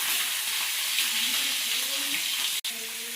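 Food fries on a hot tava griddle in a home kitchen, a continuous close hiss and crackle with a brief cut near the end, a faint voice murmuring beneath.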